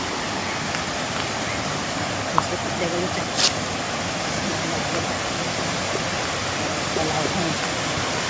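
A steady, broad rush of falling water at Huay Kaew Waterfall in Doi Suthep-Pui National Park, Chiang Mai, fills the whole stretch, continuous and even, with a couple of brief faint knocks above it.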